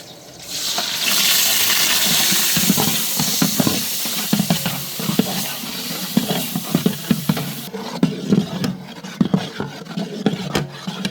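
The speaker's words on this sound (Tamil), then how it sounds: "வெங்காயம் வதங்கிடுச்சிங்களா வெங்காயம் பச்சை வடை கொஞ்சம் வதங்கிட்டே இருக்குது" Onions sauté and sizzle in a pan for a traditional Pondicherry chicken curry, a steady hiss with stirring scrapes and clatter, the sizzle fading after a few seconds into intermittent stirring knocks.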